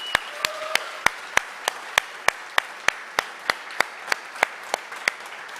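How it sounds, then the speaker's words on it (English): Audience applause at a startup demo day event: a background bed of crowd clapping with prominent, regularly spaced loud claps keeping a steady beat, plus a brief tonal sound early on. "please applause for them."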